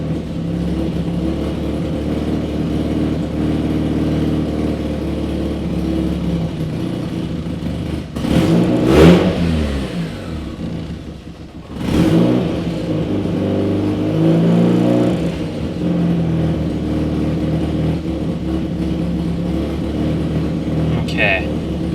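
A 1990 Mazda RX7 Turbo engine idles loud and close, then revs in two sharp bursts and settles back, with a third smaller rise later, while someone talks intermittently.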